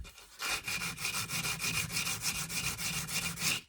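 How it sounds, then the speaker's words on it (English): Sandpaper rubs across a wooden mandolin body in quick, even back-and-forth strokes, a close rhythmic scratching that keeps up steadily for several seconds. "once you're all done with that, then you sand"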